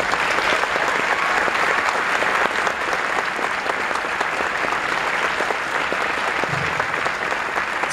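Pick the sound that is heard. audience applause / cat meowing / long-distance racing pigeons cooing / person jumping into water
audience applause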